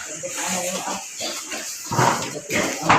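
Pigs on a farm feeding, with grunts, snorts and chewing noises close by, mixed with louder bursts of activity and a person talking in the background.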